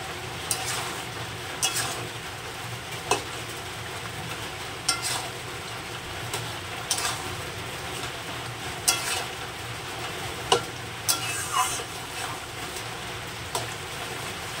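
A spoon stirs a shrimp, potato and drumstick curry in a pan, giving a soft steady sizzle broken by sharp scrapes and taps every second or two, with no voices.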